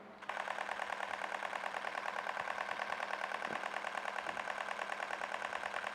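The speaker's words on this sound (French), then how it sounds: "Pour vous donner une idée du mode rafale avec cet appareil" Nikon Zfc camera shutter firing rapidly in burst mode, a steady stream of fast, evenly spaced mechanical clicks running continuously up close after a brief quiet start.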